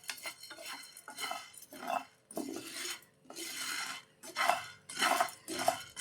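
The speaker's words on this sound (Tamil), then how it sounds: "அப்படியே கொஞ்சம் நேரம் கலந்து விட்டுக்கிட்டே இருங்க" Roasted sago being stirred in a pan off the heat, with repeated rhythmic scraping and rattling strokes of a spoon against metal in bursts with short pauses between, close and fairly loud.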